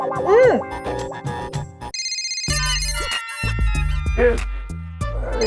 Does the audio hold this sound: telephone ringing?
yes